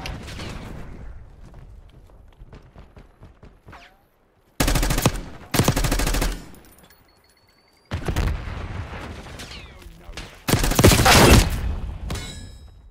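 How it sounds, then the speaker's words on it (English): Call of Duty Black Ops 6 multiplayer gunfire, with sustained automatic bursts and heavy loud volleys alternating with quieter stretches of scattered shots and game effects. "Who's shooting at me?"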